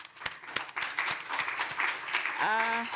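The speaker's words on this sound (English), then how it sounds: "I think we can give more applause for the 4 presenters." Audience applause for four presenters at a water utilities congress session, a short burst of clapping with distinct claps that swells, then a voice starts speaking near the end.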